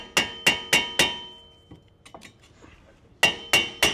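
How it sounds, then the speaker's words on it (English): A sledgehammer taps around a stuck front brake rotor on an Infiniti G35/G37: four sharp metallic ringing blows in quick rhythm, a pause with faint clinks, then three or four more blows, close and loud. "Grab a sledgehammer and just tap around this so you can free up the rotor."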